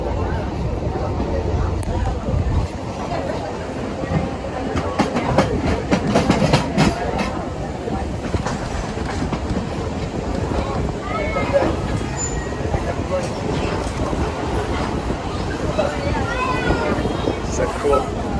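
Passenger train riding the Lehigh Gorge railway tracks near Jim Thorpe, Pennsylvania, with a continuous rumble and rattle of the cars, faint clicks and people talking throughout.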